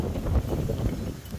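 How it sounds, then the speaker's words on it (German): Wind gusting across an open lakeside on a rainy day at the Sorpesee, a steady low rumbling buffeting close on the microphone, with no voices. "Heute ist es windig und regnerisch"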